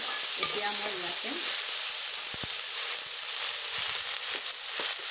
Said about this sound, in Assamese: সকলোখিনি এনেকৈ তেলত দি অকণমান সময় ভাজি ল'ম।